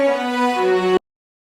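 Session Strings Pro string melody from Kontakt, bounced to audio, a single sustained bowed chord lasting about a second that is cut off abruptly into silence.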